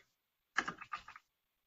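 A few quick computer keyboard clicks in a short burst, picked up close by a new microphone, with silence before and after.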